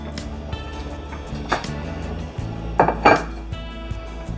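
A spoon stirs kwati soup in a metal cooking pot, giving scattered scrapes and clinks over a steady hum, with a small cluster of louder knocks near the end.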